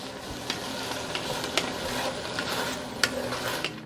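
Spices fry in a pan with a soft, continuous sizzle, while a utensil stirs and taps against the pan in a few sharp clicks.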